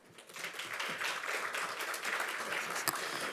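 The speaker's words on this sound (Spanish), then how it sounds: "Así que lo recibimos con un aplauso." An audience at a regional research conference breaks into applause welcoming a speaker, the clapping swelling quickly after a quiet start and holding as a dense, steady patter to the end.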